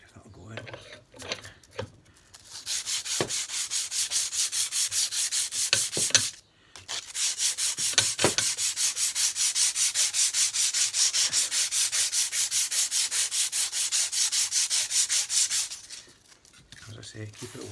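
Aluminium on a Yamaha XS 500 being wet sanded and polished, a close, rapid back-and-forth rubbing that runs in steady rhythmic strokes for long stretches, briefly pausing once, with quiet handling noises at the start and end.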